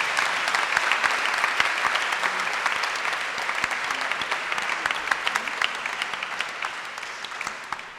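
Congregation at a farewell Mass applauding a priest in a church sanctuary, a dense sustained wash of clapping from many hands that slowly tapers over several seconds.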